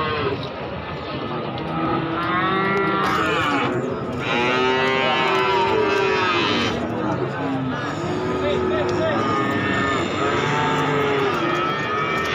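Cattle at the Wirosari cattle market in Grobogan, Central Java, give several long, drawn-out moos, some overlapping, over a busy crowd murmur with people talking throughout.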